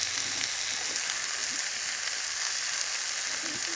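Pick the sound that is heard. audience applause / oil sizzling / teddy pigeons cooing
oil sizzling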